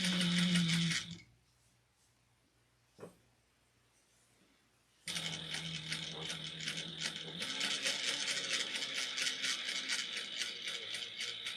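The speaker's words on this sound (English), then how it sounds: "I like to reinforce that area with a couple stitches." A sewing machine stitches to reinforce a bag seam, starting with a burst of fast mechanical rattling, then falling silent apart from a brief click, then running again in a steady, rapid, close stitching rhythm.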